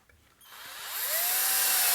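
A Genesis 12-volt cordless drill on low speed drives a 2.5-inch drywall screw into a 2x4, its motor whine rising in pitch and loudness as the screw sinks in, close up with no talking.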